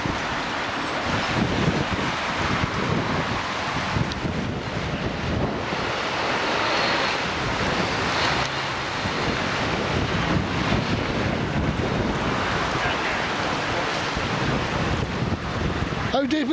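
Floodwater of a swollen river at Williton, West Somerset, rushing in a steady, loud broadband roar that fills the whole stretch, with gusty wind buffeting the microphone throughout.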